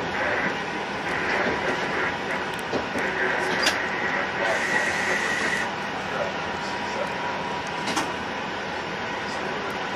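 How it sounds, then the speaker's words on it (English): An Acela Express train rumbles past steadily on nearby tracks, a broad rushing roar with faint metallic squeals, continuing for the whole stretch. "There's a train coming up on the other track."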